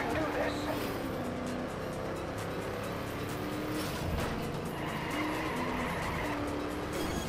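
Cars in the racing game Trackmania Turbo drift and skid, with tire squeal and engine whine rising and falling in long sweeps over a steady motor drone while people talk across the scene.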